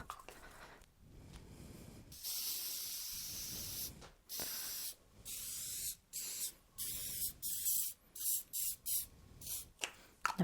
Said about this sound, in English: I'm actually going to spray it with some edible glaze spray, just to give it that sort of shiny look